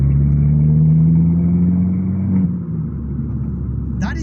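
Abarth hatchback engine and exhaust in comfort mode on a road drive, a steady loud engine drone that eases off as the car slows, heard from the cabin.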